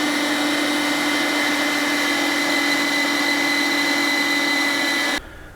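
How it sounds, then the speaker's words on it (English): A motorized meat grinder grinds doner kebab meat, running as a loud, steady, even whir with a constant hum, alone for about five seconds before it cuts off abruptly. "So I'm going to be passing it through this grinder at least once."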